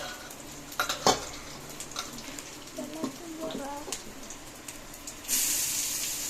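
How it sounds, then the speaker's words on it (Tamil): Tomatoes sautéing in a pan with a spoon stirring, giving occasional scrapes and clinks of utensil on metal and a soft sizzle, with a brief hiss near the end, under quiet background noise. "கொஞ்சம் வதக்கலாம் கைஸ்"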